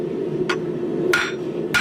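A 2-pound hammer strikes hot steel on an anvil while forging a corkscrew, three sharp metallic blows at uneven intervals over a steady background hum.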